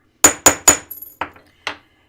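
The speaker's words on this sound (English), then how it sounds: "how do you create the texture? It's just a hammer." A hammer strikes a metal piece to texture it, landing three loud, evenly spaced blows followed by several lighter taps, each a sharp metallic hit with a short ring, close up and with no talking.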